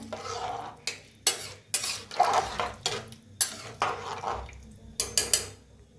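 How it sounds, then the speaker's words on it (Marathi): A spoon scrapes and clatters around a pan in repeated short strokes, a steady rhythm of metallic stirring up close. "मस्त एकदम मिक्स करून घेऊया"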